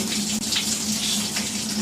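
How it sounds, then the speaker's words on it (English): Hot water from a propane on-demand water heater rushes continuously out of a tap, a steady, close, full-bodied flow with no talking. "So when I turn it on, the hot water will come, the water will come through here and then automatically turn on."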